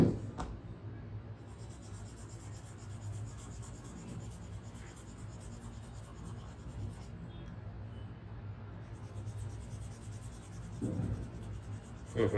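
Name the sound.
drawing Stitch on paper with pen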